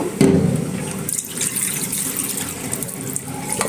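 Water splashes and pours into a cooking pot for dal in a short steady stream, close by, with a few clanks of metal; no voices.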